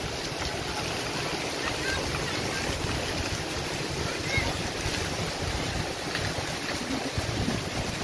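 Very heavy rain near a shore where two large boats sit and an island is hidden from view, a constant dense roar with wind buffeting the microphone.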